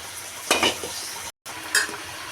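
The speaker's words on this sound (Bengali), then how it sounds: "এখন আমি মাছের ডিম বোনার জন্য পেঁয়াজগুলি লাল করে ভেজে নিচ্ছি" Onions frying in a pan for a fish roe curry, with a low steady sizzle and two brief louder bursts of stirring and scraping.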